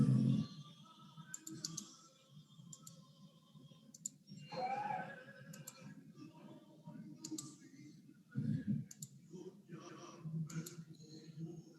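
Computer mouse clicks come one at a time at an irregular pace, small and crisp, while a voice speaks quietly now and then in the background.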